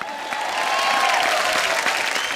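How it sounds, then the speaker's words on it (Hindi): Loud studio audience applause bursts out for Alia on a Hindi comedy show set, dense steady clapping with a few cheers throughout. "आलिया के लिए जोरदार तालियां।"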